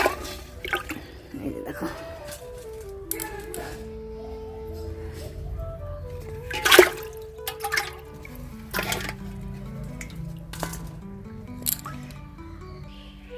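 Live snakehead fish lifted out of water by hand, with wet squishing, splashing and dripping sounds throughout, close by, while a person talks over them.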